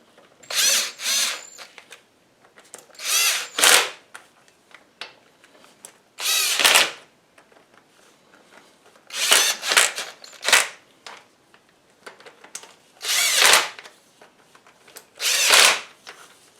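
Power tool running down head bolts on a Farmall 560 diesel tractor during a head gasket job, a series of short whirring bursts separated by pauses, close and fairly loud, with no voices.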